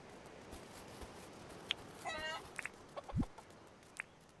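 Chickens in the farming video game Dinkum give a few short, faint clucks and squawks scattered across a quiet ambient background, with no talking over them.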